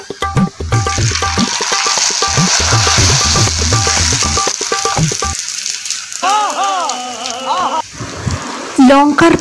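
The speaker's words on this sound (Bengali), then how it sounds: "এই লঙ্কার পাঁপড়গুলো ভাজছি" Chili papads fry in hot oil with a loud, continuous crackling sizzle, close by, while a voice talks over much of it.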